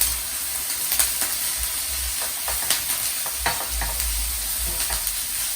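Locusts sizzle and crackle steadily in a hot pan with gochujang, a Korean red pepper paste sauce, while a utensil stirs them; close and continuous, with no talking.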